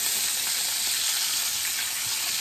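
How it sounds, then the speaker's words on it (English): Cheeseburgers sizzling in a pan as they are flipped partway through cooking, a loud, steady crackling fry close by that holds constant throughout, with no voices. "We're gonna flip our burgers."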